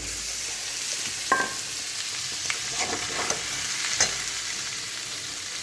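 Fried pointed gourd (potol) goes into a hot pan and sizzles with a steady hiss, broken by a few sharp clatters and stirring scrapes, close up and without talk.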